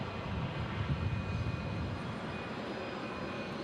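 Boeing 717 jet airliner at Omaha Eppley Airfield, heard as a steady, broad engine roar that holds fairly constant throughout, with a faint high whine on top.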